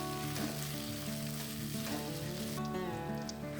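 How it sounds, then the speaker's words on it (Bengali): Ginger paste, salt and sago fry in a pan with a continuous close sizzle and occasional stirring scrapes, alongside a faint steady background hum. "খুব ভালো করে ভাজতে হবে, ভেজে এর মধ্যে একটু লবণ দিয়ে দেবো"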